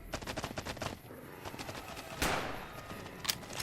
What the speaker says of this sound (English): Anti-material rifle, too fucking good.